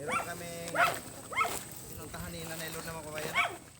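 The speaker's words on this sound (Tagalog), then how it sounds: "kasi may aso" A dog barks in short repeated bursts, about five sharp yips and barks spread evenly and heard fairly close, mixed with some whimpering.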